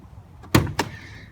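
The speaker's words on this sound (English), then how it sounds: "Very German-sounding door closing." The door of a 2008 Chrysler Crossfire Roadster closes with one solid, close thud, followed by a softer latch knock just after, in a quiet setting.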